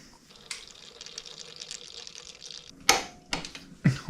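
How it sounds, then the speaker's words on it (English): Old brake fluid drains from the rear brake of a 2007 Honda CBR600RR, running in a thin, close liquid trickle, followed by a few sharp clanks and knocks near the end. "we're going to start off by draining out all of that old disgusting fluid"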